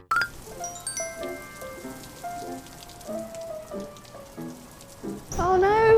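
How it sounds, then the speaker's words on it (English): Rain pattering steadily on a surface on a city street in Seoul, with scattered tinkling drips and chimes over it, before a louder burst of noise takes over at the very end. "Oh no, it's raining."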